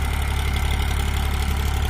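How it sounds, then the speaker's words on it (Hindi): A Massey Ferguson 245 tractor, a 50-horsepower 2020 model, hauls a trolley loaded with 122 sacks of potatoes; its engine throbs loud and close in a steady low chug, with no talk over it. "ये 122 कट्टे लेके चल दिया ट्रैक्टर, ज़्यादा कट्टे भरने के लिए उन्होंने मना कर दिया।"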